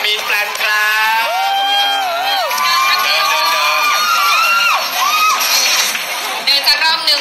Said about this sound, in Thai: ขอเสียงปรบมือให้กับมีนแปลนครับ